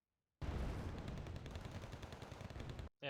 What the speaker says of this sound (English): They're just getting gunned down by this Cobra's grenade launcher